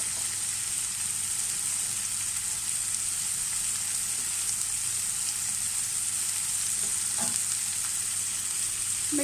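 Green onion sizzling in a hot pan while poha is cooked, a steady, even frying hiss throughout with light stirring and faint clinks near the end.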